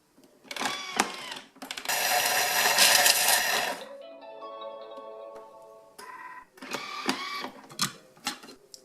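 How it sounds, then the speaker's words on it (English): A Thermomix TM5 grinds broken chocolate on speed 9 in a loud, harsh whirring burst of a few seconds, framed by machine beeps and clattering handling sounds. "just weigh in the 200 grams of broken up chocolate. And then that's just going to be grated for 5 seconds on speed 9"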